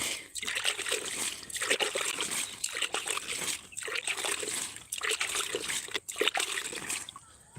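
Water splashes and trickles onto vegetable plants in an outdoor garden bed, coming in uneven bursts of pouring with brief pauses between them, fairly close and moderately loud.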